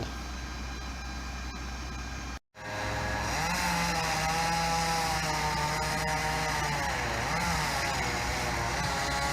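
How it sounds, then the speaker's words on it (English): A chainsaw cutting down a wooden power pole runs loudly, cuts out briefly, then revs back up and holds a steady high whine as it bites into the wood. "those guys up there are sawing that pole down the rest of the way"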